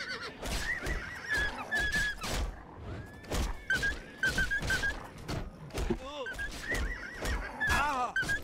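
Repeated horse whinnies and snorts ring out over clopping hooves and thuds, busy and close, with a game-like mix of effects, in the video game The Elder Scrolls IV: Oblivion.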